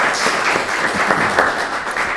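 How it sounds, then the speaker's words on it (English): An audience at a panel discussion applauds with dense, steady clapping that fills the room, sustained throughout without voices. "we should just give them another round of applause"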